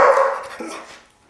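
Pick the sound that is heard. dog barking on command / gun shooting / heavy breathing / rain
dog barking on command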